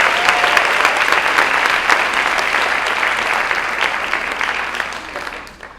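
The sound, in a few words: audience applause for Bonnie Hanna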